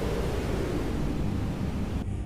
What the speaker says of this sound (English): Wind continues to push aft across the crater.